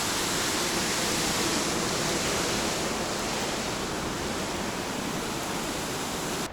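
River water flowing near an abandoned former Soviet factory, a dense steady rushing hiss from start to finish, loud and close with no voices.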